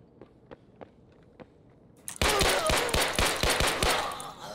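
Running footsteps in the video game Escape: a few scattered soft steps, then a sudden burst of loud, fast, heavy rhythmic thuds over a dense noisy background, close by.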